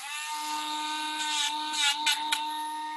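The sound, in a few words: Dremel rotary tool grinding down a dog's nails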